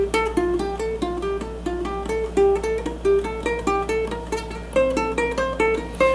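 An F extended scale is played note by note on a ukulele, a brisk run of clear plucked notes climbing and falling, alone over a faint low hum.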